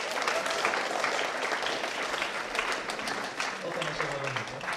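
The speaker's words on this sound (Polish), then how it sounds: "Wielkie brawa." Steady applause from an audience at a high school year-end ceremony, sustained and fairly loud throughout, with a few voices mixed into the clapping.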